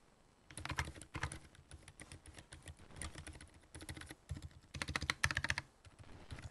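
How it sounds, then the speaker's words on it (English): Fingers type on a keyboard fitted with silent tactile switches, producing soft, muffled keystrokes in quick bursts and pauses, with a few heavier thumps that may be the space bar, all quiet and close. "these keys are silent tactile, so take a listen to this"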